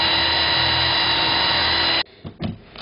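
Bosch power drill driving screws into exterior plywood for the bottom of a chicken coop nest box, a loud close whirring motor held steady for two seconds, then cutting off into brief clicks and scuffs.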